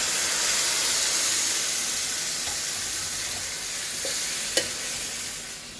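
Beef curry sizzling loudly in a pan as ground masala paste is poured in, a dense continuous hiss and crackle close up that eases off slightly toward the end, with a sharp clink near the close.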